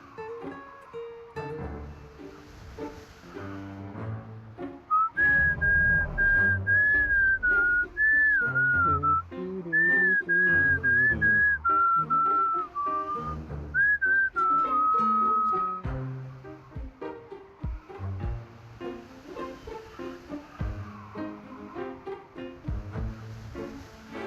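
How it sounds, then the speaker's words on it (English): Someone whistles the tune of La Llorona in the video game Reverse: 1999, a clear, close melodic whistle held over a soft instrumental backing, rising and falling through several phrases. "Next, whistle the tune of La Llorona"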